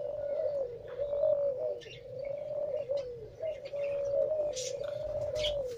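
High-flying Teddy pigeons in Pakistan coo in a steady, soft, repeating rhythm, joined by scattered higher chirps, at a moderate level with no talking.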